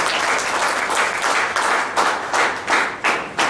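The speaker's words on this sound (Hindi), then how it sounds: "तो आप अपने लिए भी एक बार फिर से ताली बजा के" Audience applause at a Dhanwantari gathering in a hall, a dense, loud wash of clapping from many hands, swelling in waves and continuing steadily without any voices.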